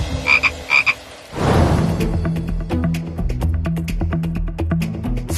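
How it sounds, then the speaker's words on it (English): Frogs croak in a loud, dense chorus. A few sharp calls come first, then a sustained swell of overlapping rhythmic croaks up close, with no voices. "Frog number 4 doesn't have see-through skin"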